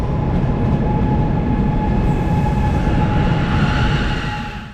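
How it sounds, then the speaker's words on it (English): A German ICE3 high-speed train, formed of two 8-car sets, runs at up to 300 km/h with a loud, steady rolling rumble and a sustained whine, fading slightly at the end. "our train today is formed of 2 8-car ICE3 sets"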